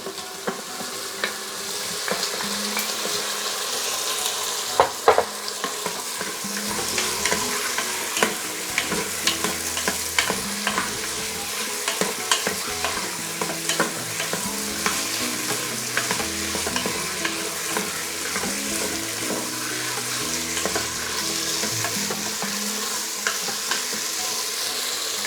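Beef chunks for a braised red-cooked stew sizzle and fry in a pan while being stirred, with continuous hiss broken by frequent scraping and clattering knocks of a utensil against the pan.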